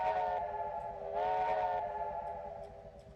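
A steam locomotive whistle in Trainz 2022 blows in two sustained, loud chime blasts, the second swelling after a brief dip, with no voices.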